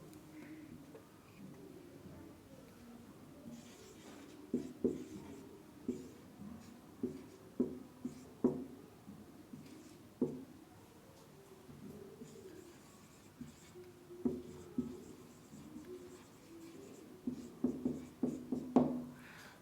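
Handwriting on a board or paper during a math lecture on infinite sets, a capital letter being written; scratchy strokes come in irregular bursts at moderate level, with pigeon-like cooing in the background and no speech.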